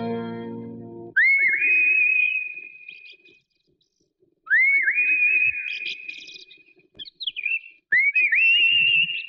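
A person whistles three rising, sustained tones in separate phrases with short silent gaps between them, clear and close, after a brief opening burst of other sound.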